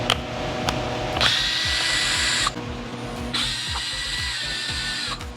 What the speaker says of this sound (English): come to the back here and swap these screws out